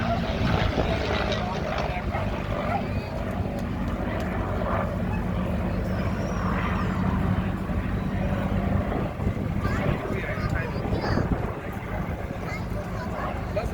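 At the Eastbourne airshow, an aircraft passes by in a continuous low engine rumble and roar while a commentator talks steadily over the noise.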